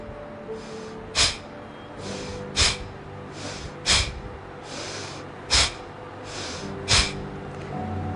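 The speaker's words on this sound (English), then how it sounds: "breathing out, pulling the tummy in and throwing the air out with a jerk" Forceful exhalations pushed out with a jerk as the stomach pulls in, five sharp breathy bursts spaced about a second and a half apart, with softer inhalations between, close and alone.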